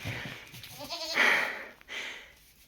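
Goats that have wandered into a saddle room bleat indoors, with one clear nearby bleat followed by a softer one, over faint background noise.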